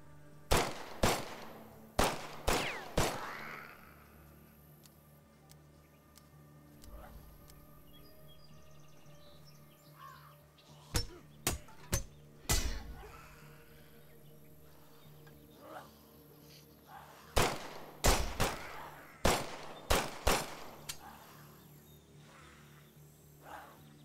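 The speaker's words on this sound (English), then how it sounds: "The shooting in this game is pretty hard." Gunfire in a zombie roguelike shooter comes in sharp, loud bursts of several rapid shots, separated by quieter stretches of faint ambient noise.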